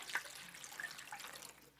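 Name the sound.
water filling a tinware muffin pan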